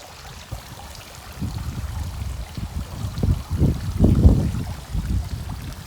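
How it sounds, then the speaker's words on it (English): Water trickles and splashes in a backyard koi pond in Barbados, fed by a small water pump, with a steady low flow that swells into louder gurgling bursts toward the end. "the only thing that's making that work is a little water pump."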